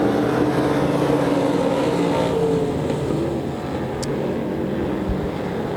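Race cars roar around the oval at Devil's Bowl Speedway during the Johnny Suggs Classic, a loud continuous engine drone with a car swelling past and fading, no talk over it.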